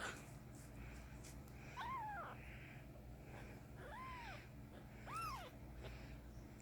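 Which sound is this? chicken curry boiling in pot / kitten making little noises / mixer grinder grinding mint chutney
kitten making little noises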